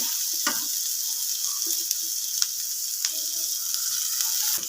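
Vegetables stir-fried in a pan with ginger for vegetable chitai pitha, giving a steady close sizzle with scattered clicks and scrapes from stirring throughout.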